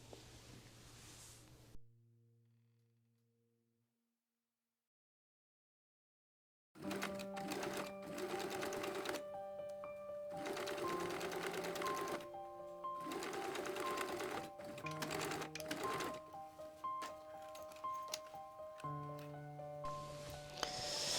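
A sewing machine stitches through a jeans waistband and seam allowance, running in a steady close-up mechanical whir with short pauses and restarts after a brief quiet stretch near the start.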